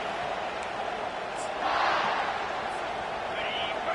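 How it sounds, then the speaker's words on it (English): A football stadium crowd roars loudly and continuously, a dense wash of cheering that swells slightly in the middle, with an announcer's voice over it. "How about this crowd rattling the rafters and trying to help their defense?"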